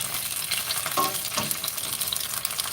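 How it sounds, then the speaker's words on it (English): Cabbage and sausage stir fry frying in plenty of oil, a steady broadband sizzle that stays fairly even throughout with a couple of brief stirring scrapes, close and moderately loud with no talking. "Cabbage sausage stir fry. A lot of oil."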